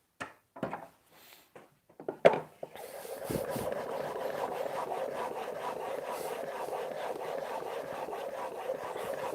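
A steel chisel is honed on a 1000 grit sharpening stone: a few scattered scrapes and knocks, then a steady close rasping of repeated strokes running to the end.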